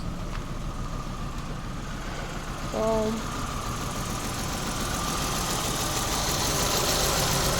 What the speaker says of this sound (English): So there's a misfire going on.